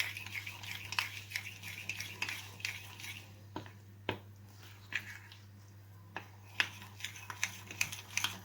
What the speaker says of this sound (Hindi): तरह इसे डालकर हम इसी चम्मच की मदद से मिक्स कर लेंगे।